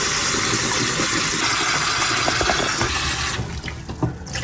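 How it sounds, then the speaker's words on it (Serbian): Steady rushing of a cold water stream pouring into a pot of hot water, loud and close, then thins out and becomes more uneven near the end. "u vrelu ovu vodu pustimo mlaz hladne vode"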